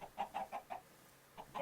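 Minecraft chickens clucking in a chicken farm built in a Create-modded world: five quick, evenly spaced clucks, a short pause, then two more, fairly quiet and close, with no talking over them.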